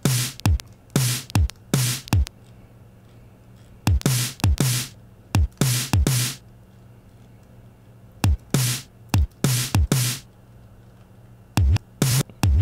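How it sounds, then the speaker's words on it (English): Drum hits from a Teenage Engineering OP-1 shaped by an LFO, bursts of hits in rhythmic clusters that swell and cut off, separated by short silences, loud and close without speech. "almost makes the drum hit sound like it swells into the next one"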